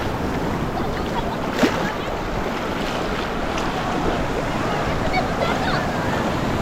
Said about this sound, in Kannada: ದೊಡ್ಡ ಅಲೆ ಬಂತು.